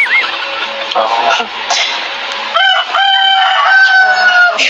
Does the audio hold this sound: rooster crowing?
yes